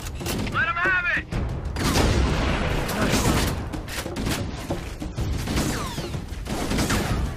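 Bursts of Covenant and marine gunfire crackle through a Halo: Combat Evolved Anniversary firefight, with rapid shots and booms overlapping spoken combat dialogue.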